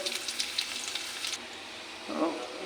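Chopped onions frying in oil spiced with whole cardamom, cinnamon, peppercorns and cumin, a fizzing sizzle with light crackles that dies down, followed by a brief louder stir or splash near the end.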